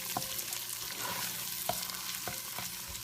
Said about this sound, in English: You just want to take and stir it up.